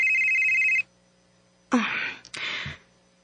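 A telephone rings with a bright electronic trill that cuts off after under a second. A short stretch of silence follows, then two bursts of breathy rustling or handling noise.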